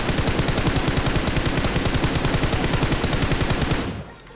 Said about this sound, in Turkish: Sizler de beni daha rahat duyun diye bu silah sesini biraz kıstım